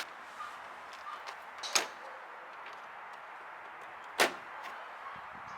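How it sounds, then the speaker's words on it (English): Plastic top cover panels on the bumper of a 2011-2014 Dodge Charger popping loose, two sharp brief snaps a few seconds apart over faint background hiss and light handling noise. "Start by pulling up the top cover panels, they just pop out."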